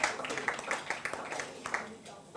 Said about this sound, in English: Please, can you help me to clap for her?